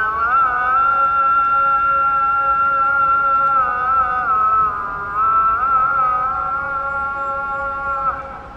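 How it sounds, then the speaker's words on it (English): An Islamic call to prayer rings out over a mosque loudspeaker in Morocco, a single sustained melodic voice holding long wavering notes, loud and carried through open air, alone without other talk. "loud mosque call, letting everyone know that it's time to pray."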